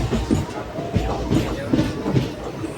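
The 17644 Kakinada Town–Chengalpattu Circar Express rolls along with a steady, rhythmic clickety-clack of wheels over rail joints, heard from on board under faint voices.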